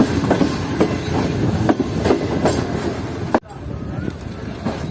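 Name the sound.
Karakoram Express train arriving at Kotri Junction station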